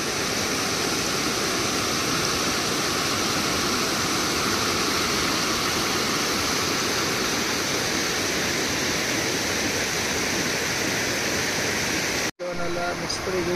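Water from a forest stream rushes steadily in the Bhimashankar jungle, close and loud, as a constant broadband roar with no pauses. The flow cuts off sharply near the end.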